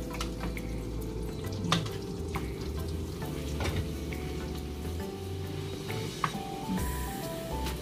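Garlic fries in a pan for a home-cooked carbonara with a steady, dense sizzle, broken by a few light clatters of stirring and utensil clinks.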